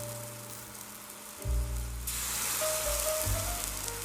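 A slice of pumpkin French toast sizzles in a frying pan, a steady close hiss of frying that swells louder partway through, with no talking.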